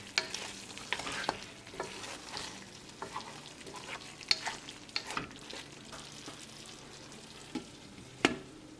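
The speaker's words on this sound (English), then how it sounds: "We're going to cover with the lid and we're going to simmer it for 2 minutes." A chicken drumstick and mushroom curry sizzles and bubbles under a lid on low heat, with a soft steady hiss, occasional clicks and a few sharper knocks.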